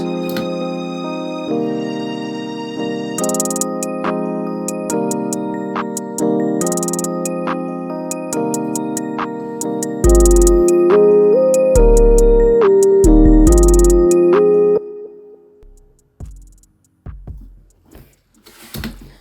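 A programmed hip-hop beat with clap-like hits and hi-hats over sustained keys, deep 808 bass booming in midway, then the beat drops out into sparse, fading hits.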